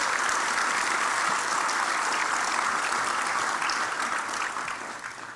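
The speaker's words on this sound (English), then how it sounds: "So please, a round of applause for the folks that have really made this happen." An audience at a Marine Corps birthday celebration applauds the organizers, a broad, steady wash of clapping from many people that holds evenly and then tapers off toward the end.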